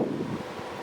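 Wind blows across an outdoor campsite, a steady rushing buffet with low rumbling gusts against the microphone and no other sounds.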